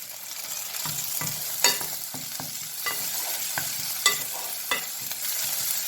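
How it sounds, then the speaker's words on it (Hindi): Chopped onion frying with ginger garlic paste in hot oil in a pan gives a continuous bright sizzle, broken by scattered scraping stirs of a spatula, close and even, no talking. "इसमें हम सबसे पहले चॉप की हुई प्याज डालेंगे। अब इसमें लहसुन अदरक की पेस्ट जाएगी।"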